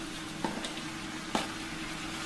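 Tomatoes go into a frying pan already holding onion, carrot and beet for borscht, giving a steady soft sizzle with a couple of brief stirring scrapes.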